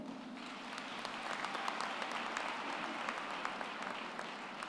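A graduation ceremony audience gives a round of applause, a dense, steady wash of many hands clapping that holds at an even level from start to finish.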